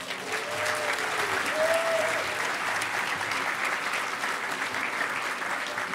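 Audience applause at the Hackers On Planet Earth 2012 closing ceremonies as an EFF guest is welcomed: a steady, even wash of crowd clapping, moderately distant in a large hall, with a few faint whistles.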